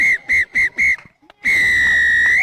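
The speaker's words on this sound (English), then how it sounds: "The whistle blows here at the Science College grounds." Referee's whistle at a schools rugby league match between Science College and Dharmaraja College, four short sharp blasts followed after a pause by one long loud blast signalling full time, with crowd noise underneath.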